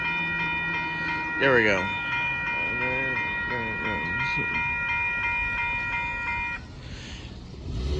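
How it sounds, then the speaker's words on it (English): The northbound Amtrak Texas Eagle 22 passenger train passes at Dittmar Road in Austin, Texas, with a steady multi-tone horn chord held over the rumble of the rail cars, then the horn cuts off. Someone speaks briefly over the sound. "There goes the northbound Amtrak Texas Eagle 22"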